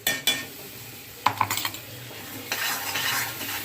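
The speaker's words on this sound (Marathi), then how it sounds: "चांगलं असं तेलामध्ये असं फ्राय करून घेऊया" Carrot paste fried in oil is stirred with a utensil scraping and clinking against the pan in short uneven strokes, over a soft sizzle that grows fuller toward the end.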